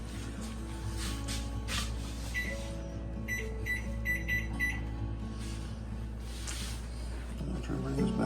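A kitchen timer is set on the stove while cooking shrimp étouffée, giving a short run of quick electronic beeps amid a steady background hum and some talking.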